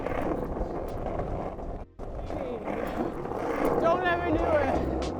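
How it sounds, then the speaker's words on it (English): Heavy wind buffeting the microphone in a constant low roar, with a voice talking over it. "It's windy as fuck."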